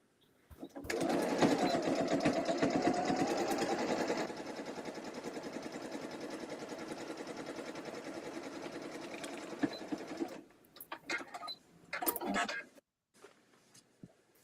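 Sewing machine stitching a quilt block, a steady rapid mechanical whir running for about ten seconds close by, easing slightly in speed partway, then a few short bursts before stopping.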